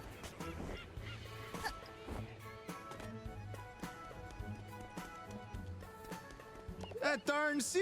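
Honking, squawking bird calls from a seagull in the video game A Hat in Time, repeated bursts over game music, with a louder flurry of squawks near the end and voices talking.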